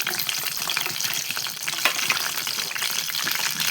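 Slit green chilies and curry leaves frying in a clay pot on the stove, a steady, dense close-up sizzle with a few brighter pops and crackles, no voices.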